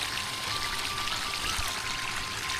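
Water pouring steadily onto cucumber plants in a village vegetable garden, a continuous soft splashing stream that stays fairly quiet and close with no breaks.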